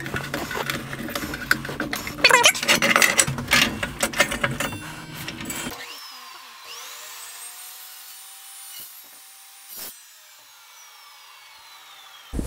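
An Evolution S355CPLS dry cut chop saw cutting steel grinds and rasps loudly for several seconds. The sound then stops abruptly, and the blade is left spinning down with a fading whine.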